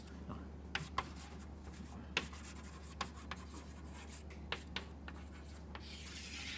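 Marker or chalk scratches faintly across a board during a university-style mathematics lecture, in short strokes and taps spaced irregularly over a low room hum, with no speech.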